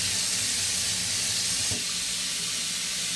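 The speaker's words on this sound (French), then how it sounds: "je vais remplir la casserole d'eau" Tap water runs steadily into a saucepan in a home kitchen, a constant hissing splash heard close up with no talking.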